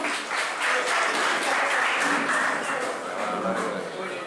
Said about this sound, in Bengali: জোরে করতালি হয়ে যায়